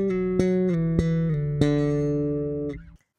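Slap bass lick played with slides made by the pinky finger, heard alone: a few sharp slapped attacks over sustained, gliding bass notes, close and clear, ending abruptly after about three seconds.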